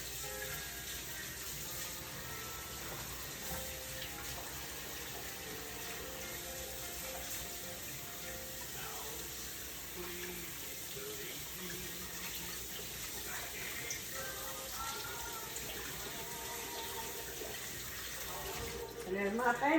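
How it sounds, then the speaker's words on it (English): Tap water runs steadily into a kitchen sink while hands are washed during cooking, a soft continuous splashing hiss with a brief louder splash at the very end. "Let me wash my hands again."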